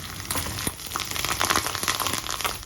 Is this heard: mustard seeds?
yes